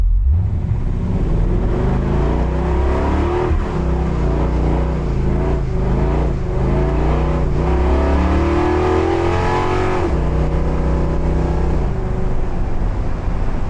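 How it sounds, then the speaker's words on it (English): Pickup truck fitted with cheap eBay Cal Tracs traction bars doing a burnout, loud engine roaring and revving up and down for several seconds with tire noise, very close. "the first thing I want to do is just a basic burnout"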